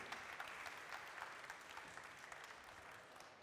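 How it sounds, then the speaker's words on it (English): An audience applauds steadily at a tech conference as a speaker is welcomed on stage, with dense, even clapping that stays faint and distant throughout. "Please welcome on stage with a huge round of applause, Oresztesz Margaritisz."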